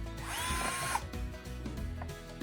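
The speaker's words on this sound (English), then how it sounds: "go ahead and drill that into there" A power drill whirs briefly while building a broiler shelter, its motor whine rising and then settling into a lower grinding bite as it drives into the material. The drilling is short, faint and close.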